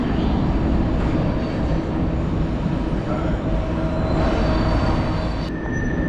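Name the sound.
train passing by in the background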